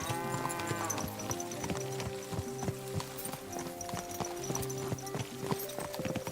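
Horse hooves in Kingdom Come Deliverance 2 keep up a steady clip-clop while riding, with tonal game music playing underneath.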